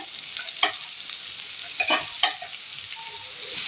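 Chilli powder, turmeric and meat masala stirred into roasting food in a pan: a hissing sizzle with a few distinct scraping strokes of a spoon, close by.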